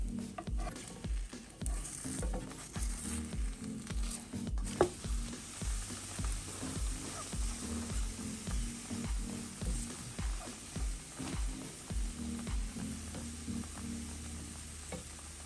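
Crepe batter sizzles steadily in a hot pan, an even frying hiss with a regular rhythmic tapping of stirring or a utensil running throughout, close and fairly quiet, no voices.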